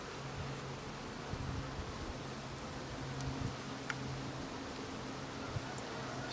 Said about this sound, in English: I do see some newly emerged bees.